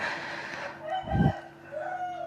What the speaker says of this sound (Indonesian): Nah itu kalau kalian dengar suara ayam itu, ngapain gitu loh mereka berkokok jam 11:30 malam.